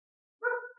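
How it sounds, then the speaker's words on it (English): One short bark from a pet dog, faint and somewhat distant, sounding abruptly after near silence and then trailing off. "if you heard some barking, that is my dog."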